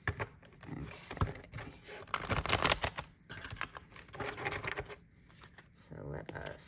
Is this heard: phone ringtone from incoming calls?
no